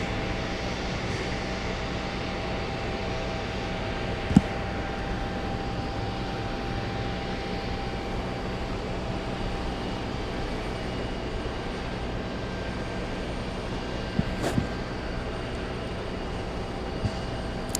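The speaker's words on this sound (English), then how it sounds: "This is the CRJ in question, the one that landed with no flaps." CRJ regional jet at JFK airport, just landed with no flaps, giving off a steady broadband engine roar that holds at a constant level throughout, with a few faint clicks on top.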